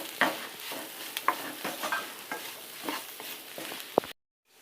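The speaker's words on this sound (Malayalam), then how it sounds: "ബീഫ് ഇടുക. എന്നിട്ട് നല്ല ആക്കി യോജിപ്പിച്ച ശേഷം നമ്മൾ നേരത്തെ വേവിച്ച് ഒടിച്ച് വെച്ച പൊട്ടാറ്റോ ഇട്ട് നന്നായി യോജിപ്പിച്ചെടുക്കുക." Beef and boiled potato mixture for cutlets is stirred in a hot pan: repeated scraping strokes of a spoon with soft sizzling, close and fairly quiet, ending in a sharper scrape before falling silent.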